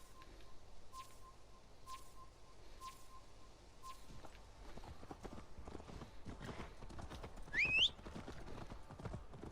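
Horse hooves clip-clop at a walking pace in the video game Assassin's Creed Valhalla, regular soft thuds under light ambient sounds with a brief bird call.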